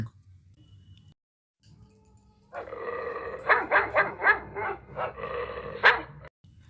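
A dog barks several times in a quick, close series of loud yaps, with a little growl, after a quiet start.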